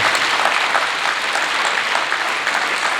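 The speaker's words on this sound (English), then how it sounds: "Can we give them a nice round of applause?" A large audience at a matric awards ceremony gives a full, loud round of applause, dense clapping that holds steady throughout without letup.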